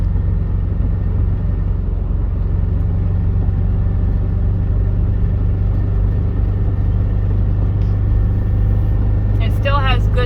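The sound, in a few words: 2006 Honda Element 4-cylinder engine driving up a hill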